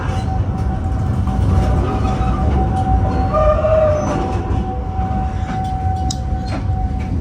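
The KA Mataram executive train, hauled by a CC203 locomotive, rolls into Jakarta Pasar Senen station with a steady loud rumble and rattle of wheels on rails. A thin squeal of wheels or brakes runs over the top.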